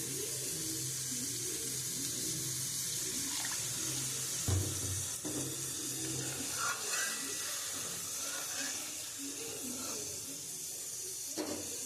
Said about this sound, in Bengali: আমি এখন পরিমাণ মতন জল দিয়ে দেবো।